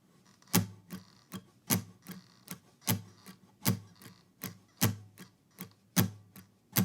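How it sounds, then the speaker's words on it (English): A guitar gives a steady run of palm-muted down strums, short percussive chunks about twice a second with little ringing, close and fairly quiet with no voices. "With the strings muted, it might sound like this."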